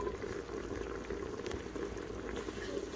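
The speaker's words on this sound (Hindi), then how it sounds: "फ्लेम हाई पर रखकर जब तक कंप्लीटली वाटर रिड्यूस ना हो जाए इस मटन में से तब तक हमें अच्छे से कुक कर लेना है" Mutton cooking in a pan on a high flame as its water boils off makes a continuous, close bubbling and sizzling that runs evenly throughout with no talking.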